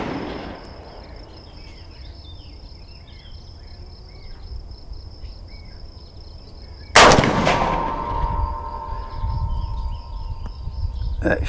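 A single loud rifle shot fired at a bullseye target cracks sharply outdoors partway through. It follows a steady insect chirping and is followed by a long rumbling echo.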